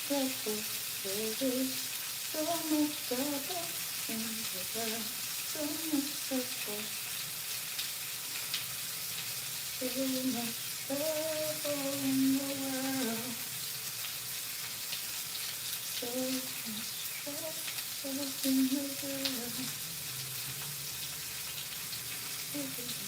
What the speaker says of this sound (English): we ain't got no grease popping everywhere